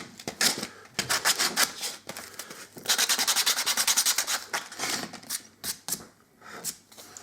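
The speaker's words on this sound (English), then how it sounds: "rubbed them down with sandpaper, so they're all looking nice and smooth now" Sandpaper rubs over the edges of jungle tabletop terrain pieces in quick bursts of rhythmic back-and-forth strokes, close and fairly loud, with short pauses between passes.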